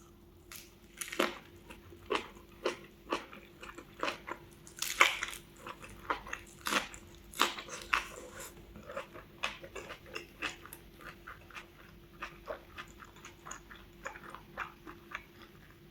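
Close, crunchy chewing of a bossam kimchi wrap stuffed whole into the mouth, steady rhythmic bites and crunches repeating for the whole stretch, with wetter squishy chews mixed in and no talking.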